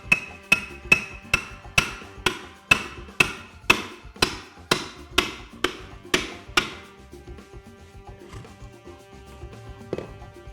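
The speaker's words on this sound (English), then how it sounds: "get the nose of it started behind the baseboard and then just tap down gently" A hammer taps a baseboard removal tool behind wall molding, about fourteen crisp, evenly spaced strikes that slowly fade in force, then a single late tap after a quiet stretch.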